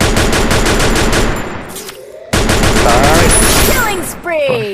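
Automatic gunfire from the video game Free Fire rattles in rapid, loud bursts, breaking off briefly near the middle before resuming with ricochet-like whines and zips.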